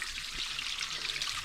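Water rushes out of a drained hot water heater tank in a steady pouring, trickling stream, close and fairly loud with a constant splashing texture and no voices.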